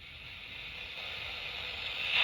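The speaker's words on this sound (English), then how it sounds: "so what you hear is like white noise" Steady hiss of broadband static from a scanning radio, like scanning between stations, slowly growing louder toward the end, inside the Morris-Jumel Mansion.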